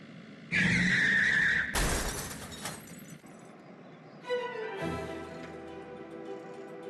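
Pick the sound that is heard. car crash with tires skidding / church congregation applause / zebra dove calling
car crash with tires skidding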